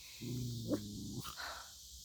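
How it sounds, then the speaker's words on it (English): Dogs growl in a low, rumbling burst lasting about a second, followed by a faint short yelp-like sound. The whole clip is quiet and distant, with no talking. "Dogs."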